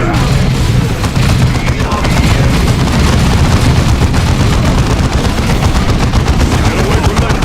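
A Warhammer 40,000: Dawn of War II battle, a dense, continuous roar of loud gunfire and booming grenade explosions throughout, with voices calling out over the din.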